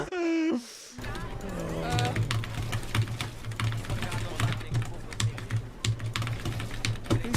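Rapid, irregular key clacks from an angled computer keyboard rattle on close by, following a brief burst of voices at the start, with a low steady hum beneath.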